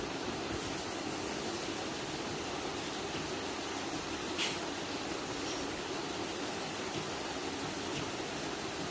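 Ribbon pakoda batter deep-frying in hot oil, a steady close hiss and crackle of bubbling that holds evenly throughout with no pauses.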